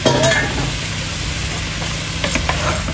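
Bitter gourd and potatoes stir-fried with prawns in an onion spice paste, giving a steady close sizzle with scraping stirs throughout, and no one speaking.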